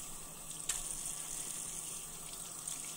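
Water runs steadily from a tap during washing off, a constant close hiss with a faint splash near the start and no talking.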